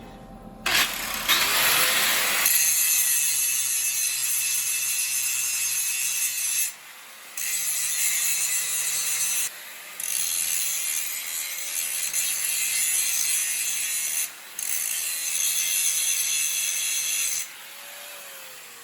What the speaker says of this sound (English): Got to grind the sides down so the U-bolts won't hit anything.